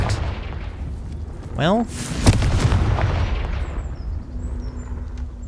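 Confringo fire spell cast in Hogwarts Legacy, a rising whooshing swoop followed by a sharp booming blast and rumbling aftermath, with a voice speaking briefly.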